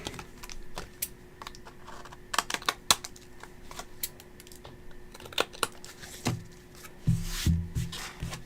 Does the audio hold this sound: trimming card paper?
yes